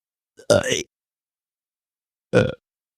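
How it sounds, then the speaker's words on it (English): Two deliberate burps forced on command, a longer croaking one followed after a pause by a shorter second, both close and loud against silence. "I can burp on command."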